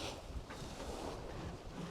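A 30 ft Norwegian sailboat crossing the Atlantic rides over big, long ocean waves, heard as a steady broad rush of water and wind buffeting against the hull and microphone, with no voices.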